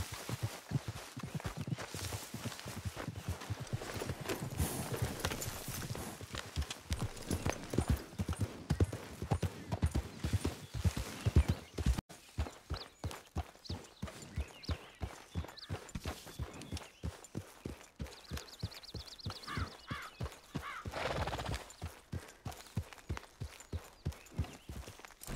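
Horse hooves clip-clop in a steady rhythm throughout a Red Dead Redemption 2 ride, close and continuous, the pace quickening into a faster beat midway, with occasional snorts and brief talk.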